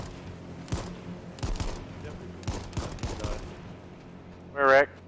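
Gunfire in the battle royale video game H1Z1, several bursts of shots at moderate distance spaced across a few seconds, with players talking over it and a short tonal game sound near the end.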